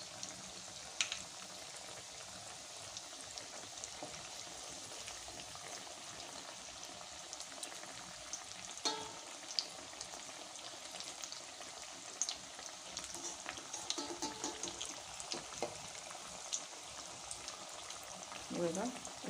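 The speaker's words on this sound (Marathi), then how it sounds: "हे बघा अशा प्रकारे बाकीचे कटलेटसुद्धा तुम्ही छान तळून घ्या" Matar poha cutlets frying in hot oil in a home kitchen, giving a steady soft sizzle and bubbling throughout with occasional crackles and utensil clinks.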